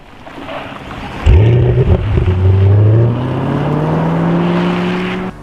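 A V8 car engine in Forza Horizon 5 fires up and accelerates hard, its deep note climbing steadily through the gears, loud and close and heard alone, with no talk over it.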